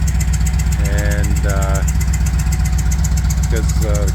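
A Bombardier tracked vehicle's engine idles with a loud, steady, close-up rumble throughout, while a person talks over it in a workshop setting.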